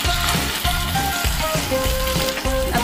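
Ground boiled tomato puree hits a hot frying pan with vegetables and sizzles steadily and loudly, with a bubbling, crackling hiss that carries on through the clip and no one talking.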